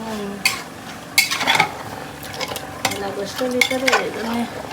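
Meat cooking in a home kitchen pot is stirred with a utensil, scraping and clinking against the metal in repeated bursts over a soft sizzle, close and fairly loud.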